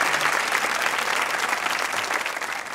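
Dense studio audience applause fills a Pakistani comedy talk show set, a steady wash of many clapping hands that stays loud throughout with no talking over it.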